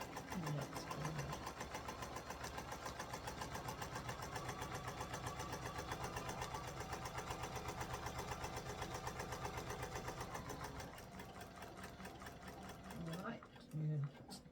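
A sewing machine stitching a stitch-and-flip quilted landscape, a rapid steady mechanical chatter running continuously before slowing and stopping near the end, close, with a person talking over it.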